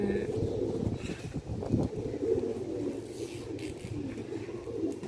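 A prized Janwan Patera pigeon coos softly on a home rooftop, low repeated murmuring calls in a steady stream, with faint wind and some background voices.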